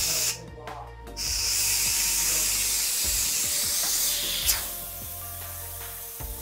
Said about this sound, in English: It's gonna blow off all the steam.